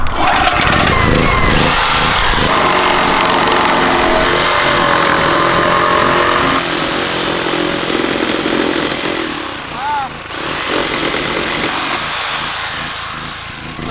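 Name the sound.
jigsaw cutting a section of wood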